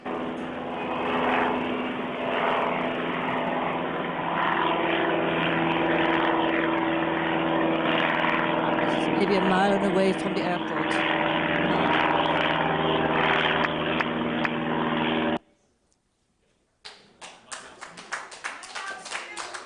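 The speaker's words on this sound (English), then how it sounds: "My daily exposure to the airplanes." A loud, steady propeller plane roar passes overhead, about a mile and a half from Santa Monica Airport, and fills most of the clip, then cuts off abruptly, followed by fainter crackling sounds; a voice speaks briefly.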